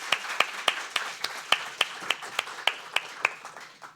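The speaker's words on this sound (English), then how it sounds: "Let's give a warm applause to you" Seminar audience clapping, a sparse, fairly faint patter of individual claps at an uneven rhythm, a handful of hands rather than a full crowd, with no talk.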